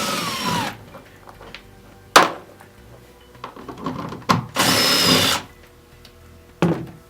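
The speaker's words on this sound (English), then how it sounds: "we're going to use a 10mm socket and remove our seat back cushion." Cordless drill fitted with a 10mm socket backs out seat back bolts on a Precedent rear seat: short bursts of whirring, two longer runs and a few brief blips, close and fairly loud with quiet clicks between.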